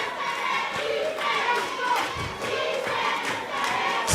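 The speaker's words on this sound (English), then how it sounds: "And the cheering has started." A football crowd at a semi-professional league match in Saint Lucia cheers and shouts at a distance, a rolling roar with rising swells and a thud near the end.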